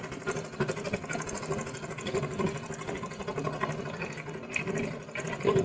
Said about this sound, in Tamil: இன்ஜின் ஸ்டார்ட் பண்ணியாச்சு